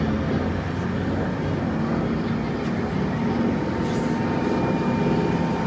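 A Vultee L-13 airplane with a big engine, big wing and large flaps comes in slow and low to land, its engine a loud, steady broadband roar that holds constant throughout without pause.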